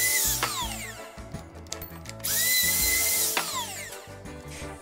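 Power drill driving two screws into a door hinge being fitted with a hinge jig, the motor whirring in short bursts with ratcheting clicks and clutch chatter between runs, close and fairly loud.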